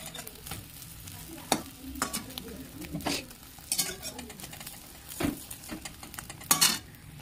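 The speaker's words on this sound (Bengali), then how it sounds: "ডিম ফ্রাই করতেছি" Eggs frying in a pan, a soft steady sizzle broken by clinking scrapes of a utensil stirring and tapping against the pan at irregular intervals, fairly close and quiet.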